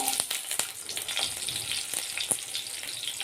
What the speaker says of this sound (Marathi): हिरव्या मिरच्या भाजून घ्यायच्या त्यातच आलं टाकते